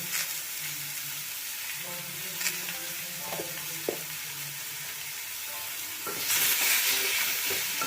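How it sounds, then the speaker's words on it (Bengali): Flat beans cooking with tomato and turmeric in a pan, a steady close sizzle of frying with occasional scraping stirs throughout, swelling louder near the end. "এবারে এটাকে একটুখানি নাড়াচাড়া করে কষিয়ে নেব"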